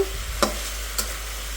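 A steady frying sizzle of chilies in a hot pan hisses throughout, broken by two sharp clicks, like something being turned.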